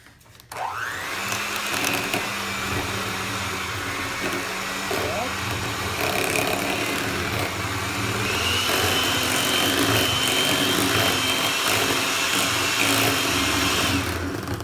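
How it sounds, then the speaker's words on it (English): An electric hand mixer beats cream cheese with raspberry jam in a steady, loud whirring drone. It starts abruptly and continues with a slight rise in pitch. "And I'm gonna use the mixer for this too."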